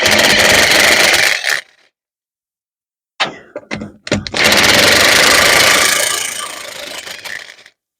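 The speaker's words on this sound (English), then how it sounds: "it's just the impact gun removing the wheel." An impact gun works a wheel off a Smart Car 453, with loud harsh buzzing hammering bursts near the mic, a pause, a few short stuttering blips, then another long grinding run that fades out.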